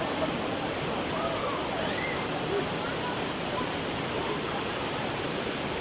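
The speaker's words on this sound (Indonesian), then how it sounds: "Dan ini air terjunnya." Air Terjun Serambang waterfall roaring as a steady, dense rush of falling water, loud and close, unbroken throughout with no clear voices over it.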